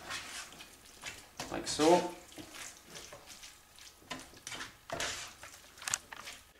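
Healthy bulk-cooking ingredients stirred together in a pan, a soft scraping and sizzling mix that comes and goes under someone talking nearby.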